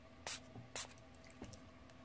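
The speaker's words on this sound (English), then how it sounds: "Let me spray a little bit." Two quick hisses of Bath & Body Works Cucumber Melon fragrance mist from a pump spray bottle, close and fairly soft, followed by a fainter third puff in a quiet room.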